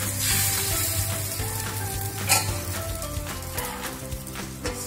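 Neer dosa batter poured onto an oiled hot pan gives off a steady, close sizzle of frying, while music-like tonal lines run underneath throughout.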